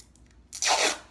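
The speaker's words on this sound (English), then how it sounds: "we're going to go down the center of it with our strapping tape" Strapping tape rips off the roll in one loud, close burst of tearing, about half a second long, right after a near-silent pause, as it's laid down the center of a rifle.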